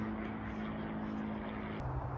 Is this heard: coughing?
no